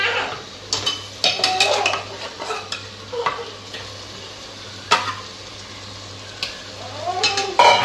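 Half a kilo of mutton going into a pot for biryani, with clattering utensils, stirring scrapes and a steady sizzle and frying hiss throughout, loud intermittent metallic knocks, no talk.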